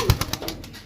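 A Sialkoti pearl-patterned pigeon coos close by, giving a short series of soft, rhythmic pulses with no talking.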